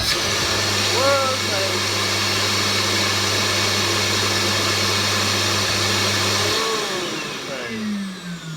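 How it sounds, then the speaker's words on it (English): An extraction fan pulls hard suction with a steady, loud roaring whoosh and a low hum that cuts off near the end, with a person's voice exclaiming over it. "That was pretty fierce, the amount of suction coming in there."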